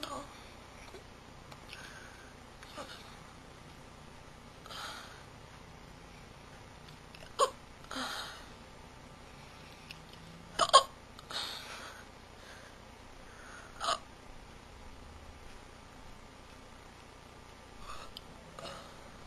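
Hiccups from a woman, faint and irregular, a handful of short sharp catches spread over a quiet stretch with soft breathing between them.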